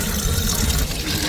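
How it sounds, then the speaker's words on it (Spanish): Spring water gushing steadily from a tap at a water refill station, a loud, close, continuous rush filling a container. "es hora de rellenar el agua"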